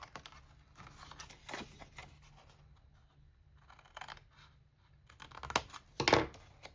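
Scissors snip small pieces out of cardstock for a handmade card, a few soft separate cuts with a louder crisp snip near the end, close up in a quiet room.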